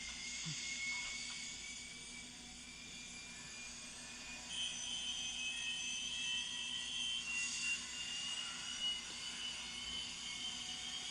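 A steady, high-pitched jet-like engine roar of spaceship engines from Star Wars Episode IV: A New Hope drones on continuously, swelling slightly partway through, with no voices.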